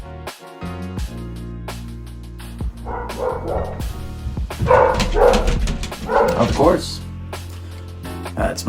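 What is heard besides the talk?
dog barking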